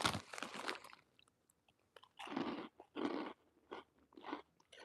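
Loud, close crunching as a crisp snack with a hint of bacon flavor is chewed, several bursts of bites with short quiet gaps between them.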